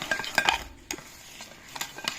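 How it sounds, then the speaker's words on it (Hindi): Instant coffee being beaten in a cup before any water is added, giving brisk scraping and clinking of a spoon against the cup in short bursts, close and fairly quiet. "देखिए तो बीट करते हैं इसको। अभी बीट करना है, वाटर थोड़ी देर बाद डालेंगे हम।"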